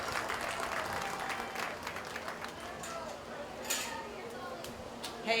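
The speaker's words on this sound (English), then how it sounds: "Please give this group a nice round of applause" Applause from a crowd for a 4-H Clover Buds group at a county fair pig show, steady clapping under a voice that talks through it.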